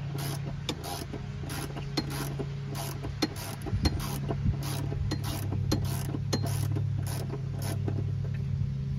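A ratchet wrench backs out an E-bolt on a GM truck airbag module, with steady clicking ratchet strokes over a constant background hum and no talk.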